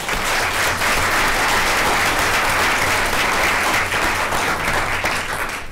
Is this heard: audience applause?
yes